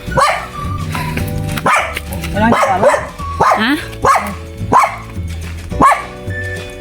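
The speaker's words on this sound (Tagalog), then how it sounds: "May aso." A dog barks in repeated sharp bursts roughly once a second, fairly close, on a mountain path near a house, while people talk over and between the barks.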